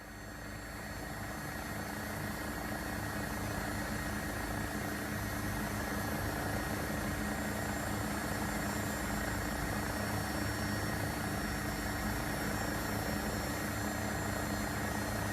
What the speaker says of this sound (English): I have to admit I don't know what an AW109 should sound like, however the sound design seems to be quite convincing